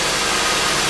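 A cold Ford F150 with a 4.6L V8 idles high in a steady, even drone, heard close and loud with no talk, after a harmonic balancer repair for serpentine belt chirp.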